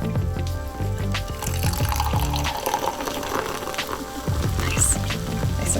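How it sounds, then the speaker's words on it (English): Fizzy Pepsi is poured from a bottle into a cup, giving a steady, close liquid splash with hissing carbonation that runs unbroken throughout at moderate loudness, with no talking. "And you pour the rest into your cup."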